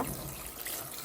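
Tap water runs steadily into a sink as fresh callaloo leaves are rinsed, a close, continuous splashing hiss with faint trickling and no voices.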